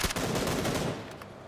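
Loud, rapid automatic gunfire crackles in a dense burst during a PUBG: Battlegrounds match, easing off toward the end.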